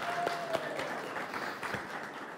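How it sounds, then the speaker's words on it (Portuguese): Children are applauded by a small group indoors, a modest patter of hand claps lasting a couple of seconds, fairly soft and close, with no talk over it. "Merece umas palmas as nossas crianças ou não?"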